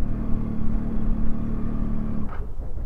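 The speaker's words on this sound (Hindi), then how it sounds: "एक्चुअली बाइक की आवाज़ ठीक ठाक सी है।" Motorcycle engine running steadily on a cold mountain road in Spiti's Pin Valley, a low sustained drone with a brief rise near the end, no talk.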